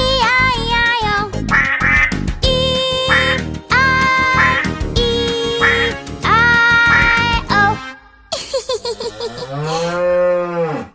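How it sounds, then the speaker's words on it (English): Duck quacks sound alongside a bright nursery-rhyme tune, several loud nasal calls in rhythm with the melody, followed near the end by a long, low, bending cow-like moo. "With a quack quack here and a quack quack there"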